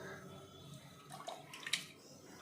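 Raw prawns are rinsed in water, giving soft, faint sloshing and dripping with a few small splashes growing slightly louder toward the end.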